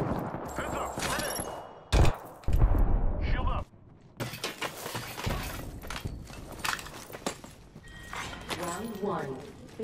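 Video game gunfire mixed with loud cracks, clattering impacts and bursts of shots across roughly ten seconds, with people talking throughout.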